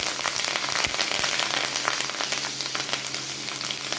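Green chillies and curry leaves frying in hot oil for brinjal upma, making a dense, even crackling sizzle like rain on a surface, close and continuous with no talking.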